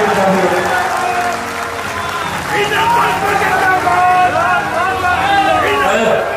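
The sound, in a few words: audience applause at a public stage event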